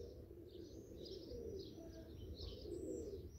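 A pet pigeon of a crested breed coos softly amid other birds outdoors, with a low steady murmur underneath and faint chirps scattered above.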